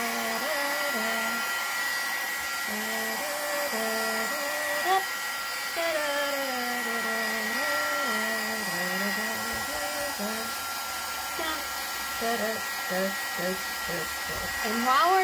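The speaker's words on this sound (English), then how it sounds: "I'm going to hit this with a heat tool" A craft heat tool blows steadily to dry a piece of mixed-media art, giving a continuous whirring roar that holds close and loud throughout with slight shifts in pitch.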